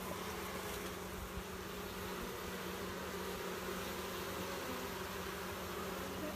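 Honey bees swarm around an opened beehive, a dense continuous buzzing drone that stays steady and close for the whole stretch, with no talking.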